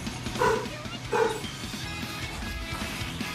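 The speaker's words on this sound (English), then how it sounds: "Clearly my dog is excited too. He wants to play." A pet dog barks excitedly twice in quick succession, two short close yaps about a second apart over a low background hum.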